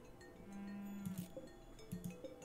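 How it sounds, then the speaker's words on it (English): A cow lows inside a RimWorld colony on arid shrubland, one drawn-out moo followed by a pair of shorter grunting calls, fairly faint over a quiet background. "Guess we should save that cow."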